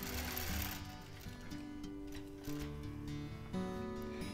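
Sewing machine free-motion quilting a quilt, a steady close motor hum with fast needle ticking that pauses briefly and restarts, moderately quiet and alone.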